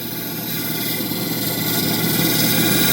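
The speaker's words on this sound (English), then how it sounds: "I apologize, this 1200 grit wheel is loud." A 1200 grit lapidary grinding wheel shapes an opal stone, giving off a loud, constant whirring roar with broadband grinding noise that holds steady throughout.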